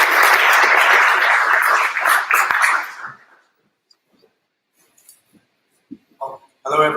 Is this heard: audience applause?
yes